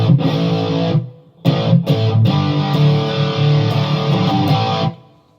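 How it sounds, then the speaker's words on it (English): A Fender Stratocaster runs into a Line 6 Helix floor unit using a PRS Archon amp patch, giving loud distorted electric guitar chords and riffs with brief gaps, close and alone. "Fender Stratocaster, going into a Line 6 Helix on the floor here with a PRS Archon amp patch."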